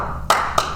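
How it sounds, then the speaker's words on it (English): Two sharp slaps of a hand drumming on a knee, close and loud, each a crisp clap-like smack about a quarter second apart. "I can find a bunch of places on my own body to just make the same sound as like, you know, what a regular clap would be."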